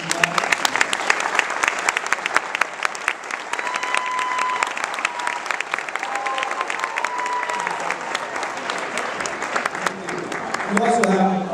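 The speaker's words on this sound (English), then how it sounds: "if our choir could stand up and give such a great recognition" Sustained applause from a school graduation audience for the choir, dense steady clapping filling the hall for over ten seconds, with voices and cheers mixed in.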